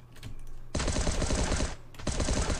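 Bursts of rapid automatic SCAR rifle fire in the survival game Last Day on Earth, a long loud volley followed by a short pause and a second burst, close and dense with no talking.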